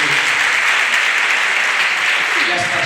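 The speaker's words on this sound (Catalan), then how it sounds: "Un aplaudiment per la Judit, sisplau." Audience applause in the municipal auditorium in Terrassa, a loud, dense and even wash of clapping that fills the whole span, with a voice speaking faintly near the end.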